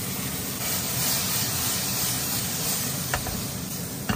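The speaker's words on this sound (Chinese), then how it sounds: "最后来点醋，溜个边去腥，" Hairtail fish frying in a pan over high heat as vinegar is poured around the edge, with Sichuan peppercorns added. It gives a steady, close, loud sizzling hiss that never lets up, with a couple of sharper spits near the end.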